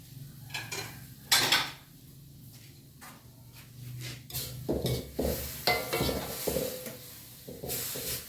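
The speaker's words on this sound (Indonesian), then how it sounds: "Terus kita ambil piring." Plates, pots and cutlery clink and scrape in a home kitchen after cooking, with several sharp close knocks and rattles over a low steady hum and faint background noise.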